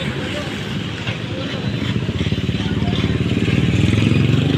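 A motorcycle engine idles and revs close by, a steady low throbbing rumble that grows slightly louder, with faint rattling.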